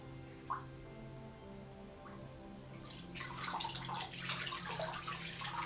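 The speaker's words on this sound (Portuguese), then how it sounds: "vamos molhar também esta toalha em água quente, e a água que tem o sal e o gengibre" A towel soaked in hot salt-and-ginger water gives a few faint drips early on, then a steady, close wet sloshing and splashing that runs on without talk.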